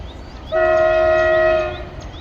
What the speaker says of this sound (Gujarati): આ ટ્રેન અત્યારે મહુવા બાજુ જાય છે, માલગાડી છે